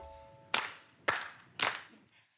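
Three sharp, evenly spaced hand claps ring out close and clear about half a second apart, each fading quickly into a quiet background, as part of a children's song.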